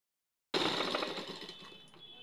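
Sewing machine stitching a blouse at the shoulder, starting abruptly and running as a fast, close mechanical whir that gradually softens.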